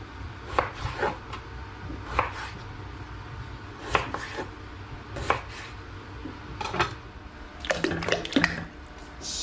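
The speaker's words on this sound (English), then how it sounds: "I'm going to begin by roughly chopping my potatoes" Knife chopping skin-on potatoes into chunks on a board, a series of irregular close thuds and cuts with short pauses between bursts, clustering quicker near the end, over a low background hum.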